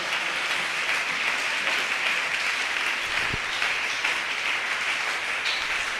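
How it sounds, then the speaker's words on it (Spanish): Congregation applause fills a Pentecostal church service, a steady dense wash of clapping that holds loud and even throughout, with no talk over it. "Alguien que le dé un aplauso fuerte al Señor."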